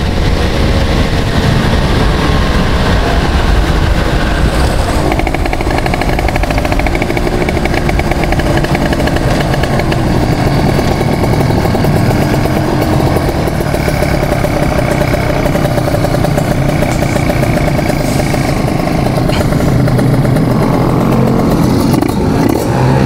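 A motorcycle engine runs loud and close for the whole stretch, holding high revs against the rev limiter with a steady, buzzing roar and slight fluctuations, no voices over it.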